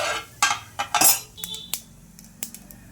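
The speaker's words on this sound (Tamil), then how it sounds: "கடுகு ஜீரகம் பொரிய ஆரம்பிச்சிருச்சு" Mustard seeds and cumin spluttering in hot oil in a pan on a gas flame turned to full, giving scattered sharp pops and crackles with a few clinky ticks, close and moderately loud.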